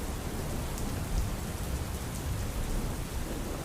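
Heavy monsoon rain in Chhota Udepur, a dense, steady hiss of rainfall pouring down continuously at close range, with no voices.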